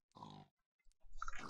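Minecraft pig grunting, two short close grunts separated by a brief silence, the second rougher and longer.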